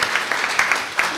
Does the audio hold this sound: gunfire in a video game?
no